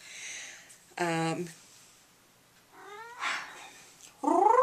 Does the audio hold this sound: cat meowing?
yes